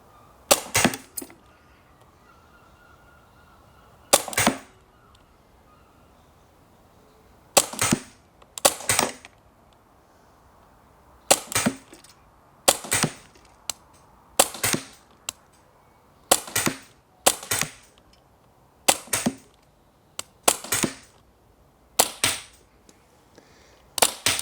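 Umarex Glock 17 Gen 5 MOS pellet pistol firing at a target, about a dozen sharp, loud cracks spaced irregularly a second or two apart, with quiet between shots.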